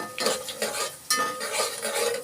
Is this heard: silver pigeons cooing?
no